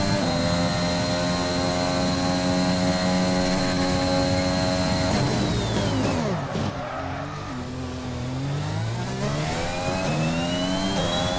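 Formula 1 car in the F1 2021 racing game, a loud high-revving engine whine that drops sharply under hard braking into a turn, then climbs again as it accelerates out, with no talking.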